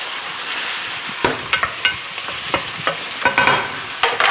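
Oxtails brown in a hot pan with a steady, close sizzle, broken by a series of sharp scraping and stirring knocks against the pan, with no talk.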